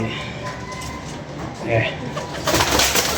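Pigeons coo softly and repeatedly close by, over steady background noise and faint indistinct voices.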